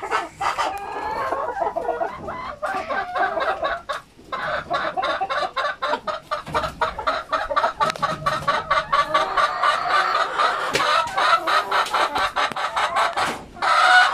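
Free-range chickens clucking close by in rural Cebu, a busy stream of rapid clucks and squawks from several birds, continuing without pause.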